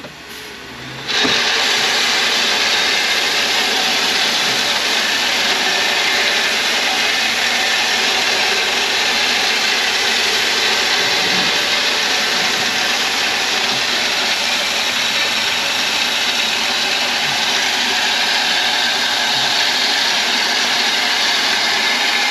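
A truck spreads gravel from its opened tailgate across a wide driveway, giving a steady, loud broadband rushing and engine rumble that starts abruptly after a second and continues unbroken.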